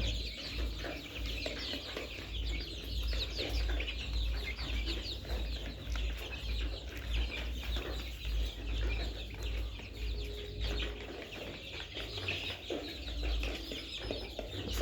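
Many layer chickens about 23 days old cluck and chatter continuously in a poultry shed, a dense close flock sound over a low steady hum.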